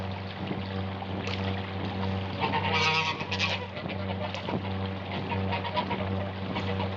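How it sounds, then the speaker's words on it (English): Geese honk repeatedly in the wild, their calls rising loudest near the middle over a steady low drone. "And there were geese,"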